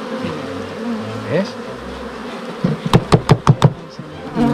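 Honeybees hum steadily at an opened hive during a smoked frame inspection, a low continuous drone with a short burst of clicks near the end; a person speaks briefly.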